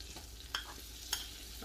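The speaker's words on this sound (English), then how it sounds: "Give that a stir. So it mixes in with the butter." A spoon scrapes through flour and melted butter in a pan over low heat, two quick distinct scrapes over a faint soft sizzle, close and quiet.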